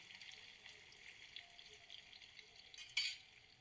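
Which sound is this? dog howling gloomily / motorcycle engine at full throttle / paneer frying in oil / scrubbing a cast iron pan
paneer frying in oil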